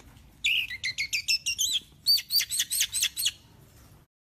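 An orange-headed thrush sings a bright run of rapid repeated whistled notes, pausing briefly and then continuing in a second quick phrase, fairly clear against a quiet background.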